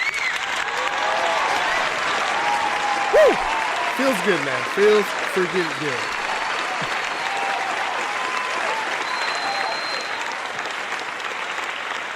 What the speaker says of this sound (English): Let's give THB a round of applause